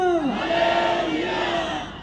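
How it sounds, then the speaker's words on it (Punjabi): A crowd at a Christmas procession from a church in Kapurthala, Punjab, shouts hallelujah together in one loud, sustained chant that holds steady and then tapers off. "ਸਾਰੇ ਬੋਲੋ ਹਾਲੇਲੂਇਆ ਹਾਲੇਲੂਇਆ ਹਾਲੇਲੂਇਆ"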